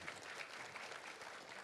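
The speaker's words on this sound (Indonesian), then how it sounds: "Tepuk tangan dulu." Audience applause at a talk, a brief, faint, continuous patter of clapping from a distant group.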